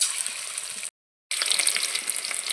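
Chicken pakoras frying in hot oil, a steady bright crackling sizzle close by that cuts out for a moment and then returns just as lively.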